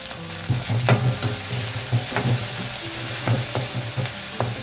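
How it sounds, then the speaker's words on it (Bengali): Chopped onions with a little salt and turmeric fry in hot oil for a Bengali potato curry, giving a steady close sizzle broken by scraping stirs and clinks. No one speaks. "এটা এখন পেঁয়াজটা ভালো করে ভাজা ভাজা হোক,"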